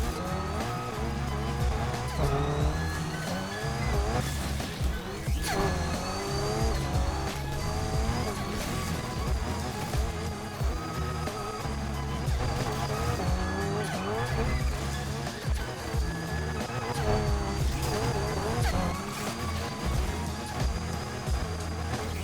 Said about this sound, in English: this entire race is just drifting